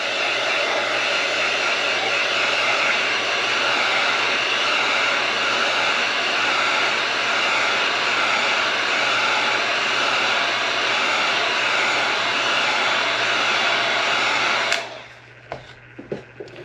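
Heat gun blowing a steady, loud, rushing roar over epoxy on a spinning tumbler for about fifteen seconds, then cutting off abruptly to a few faint clicks and handling sounds.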